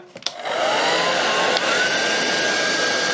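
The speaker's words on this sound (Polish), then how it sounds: "Odpalamy sobie tutaj taką e, suszarkę." An electric hair dryer switches on after a couple of clicks and settles into a steady, loud, close whooshing roar that holds constant, with a faint rising motor whine.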